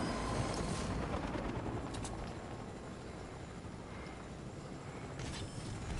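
A video game helicopter gives off a continuous rumbling, beating rotor wash, loud and close, holding steady with a couple of sharp bursts near the start and end.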